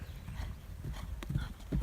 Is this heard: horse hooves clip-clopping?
yes